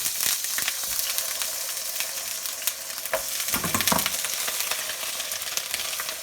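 Whole crabs sizzle and fry in a hot pan, a steady crackling hiss with a few louder spitting bursts midway, close and continuous with no talking.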